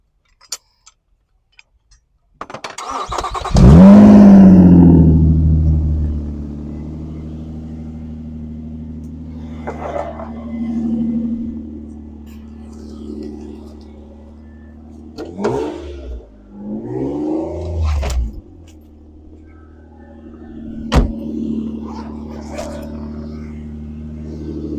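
A 2009 Nissan Murano with a newly replaced alternator cranks and fires up loudly at close range, then settles into a steady idle with occasional revs and clicks, a voice briefly audible.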